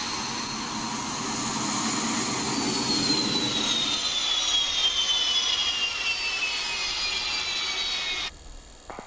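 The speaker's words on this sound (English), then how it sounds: "we're starting off by flicking all the fuel pumps and turning the engine on." A Mirage 2000 jet engine spools up during startup in a flight sim game, a steady roar with a high whine slowly falling in pitch, loud and continuous until it drops away abruptly near the end.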